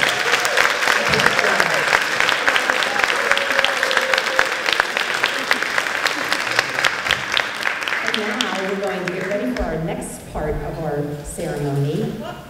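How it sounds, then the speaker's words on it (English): An audience at an elementary school promotion ceremony claps for fourth graders, a dense patter of applause that gradually thins as voices and tonal sounds rise toward the end. "Another round of applause."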